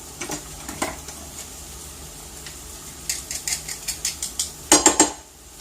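Garlic crisps tipped into a pan and stirred, with faint sizzling and a run of quick metallic scrapes and taps of a utensil against the pan, ending in a few louder clanks.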